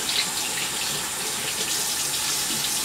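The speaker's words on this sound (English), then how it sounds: "I'm going to go ahead and get it started rinsing it off." Running tap water splashes steadily into a sink while a mud cleanser is rinsed off, a constant close hiss with no talking.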